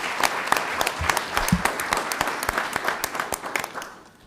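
An audience at a school board meeting claps steadily for about four seconds, a dense patter of many hands that fades out at the end.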